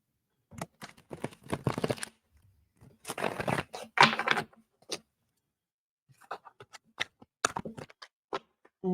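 Oracle cards being shuffled by hand in bursts of quick papery riffles and taps, separated by short pauses, close and fairly quiet with no voice.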